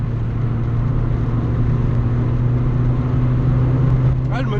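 Engine of a Peugeot 205 GTI youngtimer with a 1.6 or 1.9 engine, droning steadily at about 3000 rpm while driving, heard from inside the car with road noise and a brief voice at the end.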